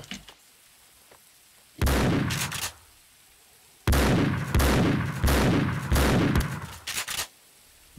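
Rapid bursts of gunfire in the video game Max Payne 2 crack out in several volleys, with brief quiet gaps between the clusters of shots.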